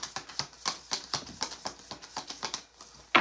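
Oracle cards riffled through a deck in a run of quick crisp flicks and soft slaps, close and fairly quiet, ending on a sharper snap.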